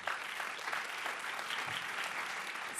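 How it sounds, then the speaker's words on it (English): An audience claps steadily through a panel event on parental leave policy, a dense continuous wash of many hands that holds level from start to finish with no talking over it. "A round of applause for our panel"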